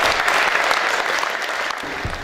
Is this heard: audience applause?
yes